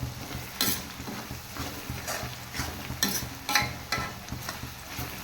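Garlic for a garlic pickle sautés in oil, a low steady sizzle broken by repeated spoon scrapes and clinks against the pan at an irregular rhythm, close and without speech.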